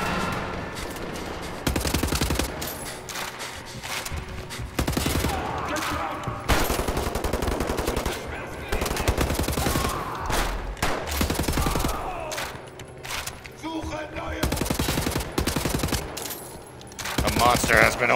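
Enemy gunfire in the shooter game Wolfenstein: The New Order comes in repeated bursts of rapid automatic fire and shots, loud and dense, with brief lulls between volleys.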